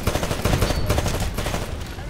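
Sustained automatic gunfire in Titanfall, a rapid and steady rattle of shots at close range, loud and unbroken for the whole moment, with no talking over it.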